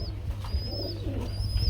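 A pair of Aparajita pigeons feeding give soft low cooing close by, under a steady background hum and a few faint high chirps from other birds.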